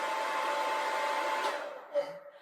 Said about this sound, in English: Now we want to have the hairdryer on the cold setting, and it's got 2 speeds.